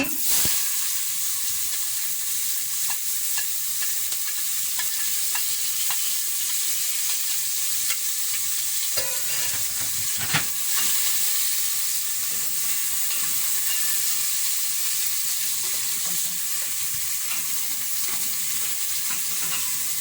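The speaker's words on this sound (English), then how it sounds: "Fry the onion for some time." Onion frying in a pot for a bean and vegetable dish gives a steady, close sizzling hiss that runs without a break, with a few soft clatters from stirring.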